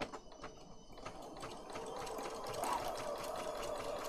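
A sewing machine runs steadily while stitching cotton crochet lace onto a junk journal page, with a faint, even whir and light mechanical ticking throughout and no talking.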